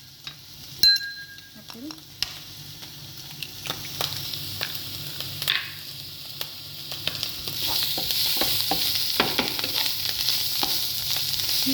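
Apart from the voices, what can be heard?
food frying and being stirred in a pan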